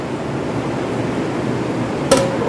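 A single metallic clink rings out as a lid is set onto a pot of Vaniyambadi chicken biryani, a short bright knock near the end over a steady low kitchen hiss.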